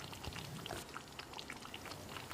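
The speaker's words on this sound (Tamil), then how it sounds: "ஒரு 2 நிமிஷம் இது கொதிக்கட்டும்." Chicken gravy simmering in a pot, a steady close bubbling and popping texture with no talk over it.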